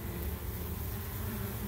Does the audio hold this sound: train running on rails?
no